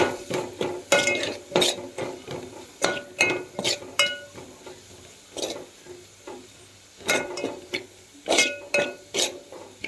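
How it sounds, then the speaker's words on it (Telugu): Carrot curry being stirred after salt and chili powder are added, a metal spoon scraping and clinking against the pot in quick irregular bursts, close and fairly loud, with short pauses between strokes and no talking. "ఇదిగోండి ఉప్పు కారం వేసాను, కలుపుతున్నాను."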